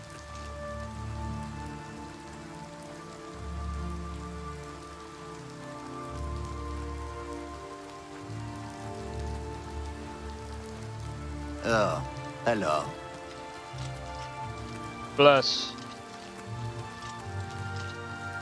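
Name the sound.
rain falling in the video game Oblivion Remastered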